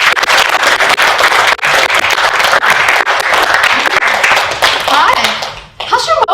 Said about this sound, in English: Warm round of applause for Dr.